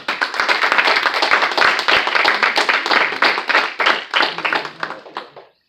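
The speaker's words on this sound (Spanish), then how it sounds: "Dele una ofrenda de palmas al Rey si usted puede." A church congregation gives a burst of sustained applause for the King, many hands clapping densely and loudly before tapering off to a few scattered claps.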